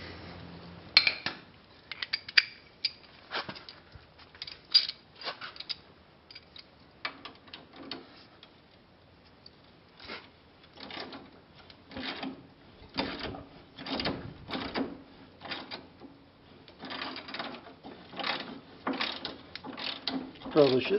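A hand ratchet turns a bolt on a woods mower, giving many short clicking strokes in irregular bursts over about twenty seconds, close but fairly quiet, with brief pauses between runs.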